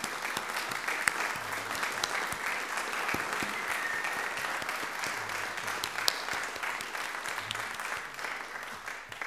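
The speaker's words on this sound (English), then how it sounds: "So we'll give you a round of applause." A congregation at a Salvation Army Sunday worship service applauds together, steady moderately loud clapping that continues evenly and fades slightly toward the end.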